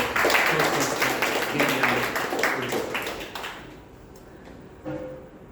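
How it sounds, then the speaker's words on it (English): An audience at a Toastmasters club meeting applauds with a dense patter of claps that fades out over several seconds, leaving a few scattered claps and a voice near the end. "Please give a big round of applause for"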